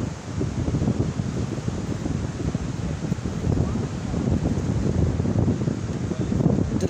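Heavy waves crash against the southern beach at Lengkong, where abrasion is eroding the shoreline, making a continuous loud roar of surf with no pauses or distinct breaks.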